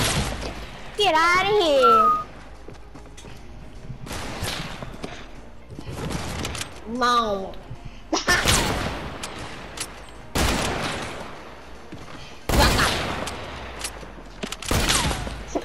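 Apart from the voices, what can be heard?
gunfire in a video game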